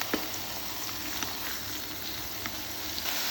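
Lamb blood sizzling in plenty of hot oil in a preheated pan, a steady close frying hiss with scattered small pops and crackles throughout, no talking.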